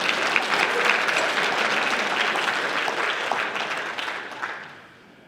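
Audience applause fills a high school basketball awards ceremony, a steady dense clapping from a crowd that holds for several seconds before tapering off at the end.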